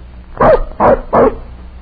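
A dog barks three times in quick succession, close and fairly loud, with short pauses between each bark.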